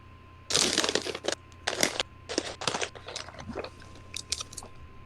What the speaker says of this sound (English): It's the crunching of snow beneath boots